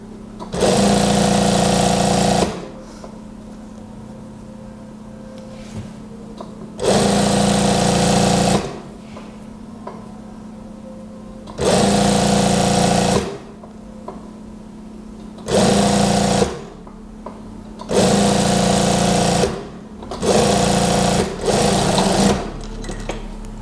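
A sewing machine stitches the side seam of a daster dress in five loud, steady bursts of rapid whirring, separated by quieter pauses with a faint low hum.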